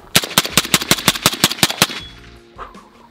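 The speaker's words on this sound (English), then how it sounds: "When given the opportunity to mag dump a Sage EBR, you mag dump a Sage EBR." A Sage EBR semi-automatic rifle is mag-dumped at a real range: about a dozen loud, sharp shots in fast, even succession, then a brief ringing tail and quieter shuffling with no talking.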